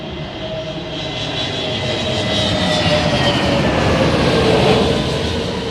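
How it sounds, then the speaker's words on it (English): A light Beechcraft-type survey aircraft flies over London Heathrow with a steady, loud engine drone and a gently shifting pitch that builds slightly across the pass, heard alone without talk. "it's a light aircraft, man. You know, yeah, like a sort of like Beechcrafty type thing."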